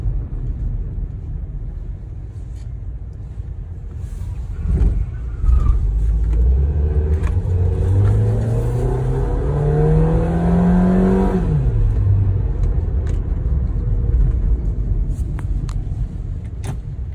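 A Renault Sandero's engine revs up, rising to a loud sustained roar through the stock exhaust, then drops back to idle; close and continuous.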